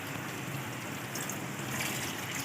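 Water poured into a pan of chicken and potato curry with oil and green chillies, a steady soft rushing trickle held at an even level throughout, close by and quiet, with no voices.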